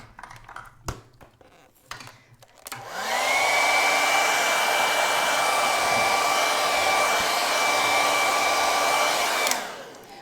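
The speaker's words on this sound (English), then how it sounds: "let me hair dry that really quick" A hair dryer blowing on wet paint on a landscape painting whirs up after a few soft clicks and taps, holds a loud, steady high whine for about seven seconds close by, then shuts off.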